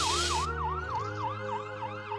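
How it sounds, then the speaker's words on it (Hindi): An ambulance siren wails in a steady rising-and-falling pattern, loud and close at first and then slightly more distant, preceded by a brief burst of broadband noise, with no talking. "मुखिया का लड़का राजेश शहर से एम्बुलेंस बुलाकर मुखिया को शहर के बड़े डॉक्टर को दिखाता है"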